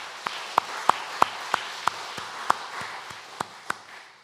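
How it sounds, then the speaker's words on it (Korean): A church congregation claps together in a sermon setting, a run of about a dozen sharp, evenly spaced claps that slowly fade in strength, with no talking over them. "우리 박수하겠습니다."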